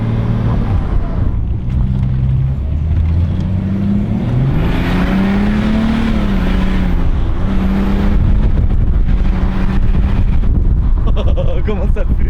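A BMW E46 with a slipping automatic gearbox accelerates hard in a field, its engine note rising and hanging in long drawn-out tones, loud and close, with people talking over it.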